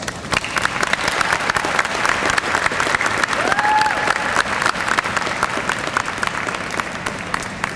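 A graduation ceremony audience at Ranney School gives a loud, sustained round of applause for the teachers, dense clapping from a large crowd filling the hall for several seconds, with a brief whistle-like tone partway through.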